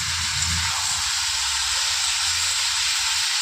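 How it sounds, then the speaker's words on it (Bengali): Snake gourd frying in a pan with turmeric and salt sizzles in a loud, steady hiss, with a soft low rumble near the start and no voices. "দেখো নুন হলুদ দিয়ে কিছুক্ষণ ভেজে নিলাম।"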